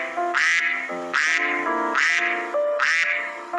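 Duck quacking in a repeated series of four loud nasal quacks, evenly spaced and close, with a buzzy processed tone and nothing else around.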